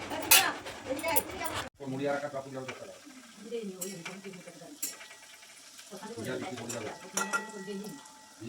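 Mixed vegetable pakoras frying in oil, a soft sizzle under frequent talking, with clinks of a spoon and pan throughout.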